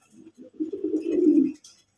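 Pigeons on a pigeon farm coo close by, a short series of soft, low throaty pulses building into one longer rolling coo before stopping.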